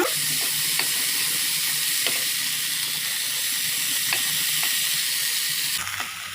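Sprouted green gram frying with salt in a pan, a loud continuous hissing sizzle with faint clicks of stirring throughout, close and without speech, dropping off slightly at the end.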